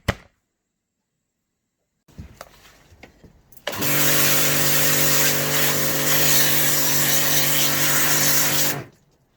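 A power washer with a trigger that had been stuck on, running steadily at close range for about five seconds after a few brief clunks and handling noises, with a constant loud motor drone and high-pitched spray hiss that cuts off at the end.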